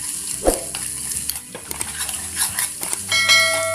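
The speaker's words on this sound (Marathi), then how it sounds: "हे भाजीमध्ये ते सगळं आपल्याला हलवून घ्यायचं" Mumbai-style vada pav potato filling is stirred in a hot pan, giving soft scraping strokes over a low sizzle. A brief louder knock comes early and a ringing metallic tone hangs near the end, with no voices.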